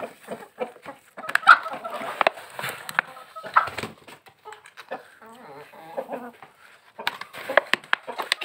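Chickens clucking in short, scattered bursts while being fed, close by and fairly quiet, with some faint talk in between.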